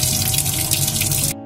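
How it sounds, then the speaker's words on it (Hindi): Steady rush of running tap water splashing over green and red chilies being rinsed in a sink, continuous and close, cutting off abruptly near the end. "ग्रीन और रेड चिली को अच्छे से धो रही हूँ मैं।"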